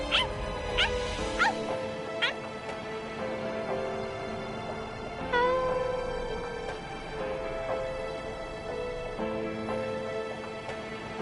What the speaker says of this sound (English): Stupid, annoying dog.